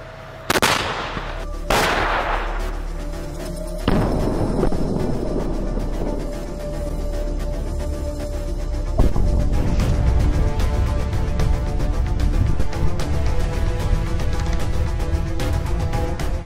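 A T-72B tank's main cannon firing at a turret: two heavy booming blasts close together, then another large boom with a long rumbling roar and ringing that fills the rest of the stretch, loud and near, with no talk.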